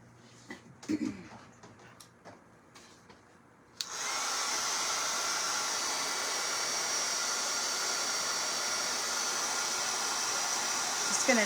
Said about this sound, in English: Just going to dry that glue on there.